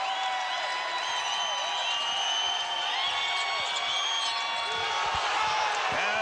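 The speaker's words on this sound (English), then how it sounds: "Listen to this crowd" Roaring college basketball crowd in Wyoming's arena auditorium cheering and whooping after a play, sustained and fairly distant under a commentator's voice.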